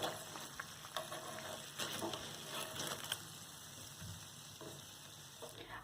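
Bread slices fry in oil with a soft, crackling sizzle, joined by irregular clinks and scrapes of a utensil, close but fairly quiet, with no speech.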